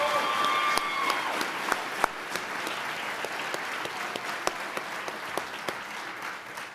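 Sustained applause from an awards ceremony audience, dense and steady, with a few sharp individual claps standing out, no voices over it.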